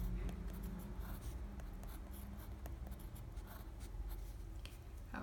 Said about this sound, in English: So let's try to write it one more time.